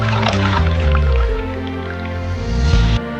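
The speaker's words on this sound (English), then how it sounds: "Spinning fruit and vegetable washing." A spinning fruit and vegetable washer churns water in a kitchen, giving a continuous wet swishing and sloshing over a steady motor hum, close and loud throughout.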